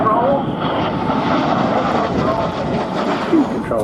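A French Air Force Alpha Jet trainer makes a slow pass at the Scampton airshow, its engine roar steady and loud throughout, with a commentator talking over it.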